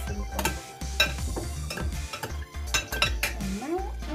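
Utensils scrape and clink against a bowl while a mango salad is tossed, a busy continuous run of metallic taps and rubbing strokes, close and fairly loud, with no voices.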